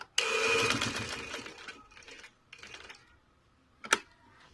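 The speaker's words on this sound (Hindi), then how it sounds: "डबल करते हुए हम ऊपर भी सिलाई लगाएंगे थोड़ी सी।" A sewing machine stitching a baby boy's kurta, a close rapid whirring run of stitches for over a second, followed by a couple of shorter bursts and a sharp click.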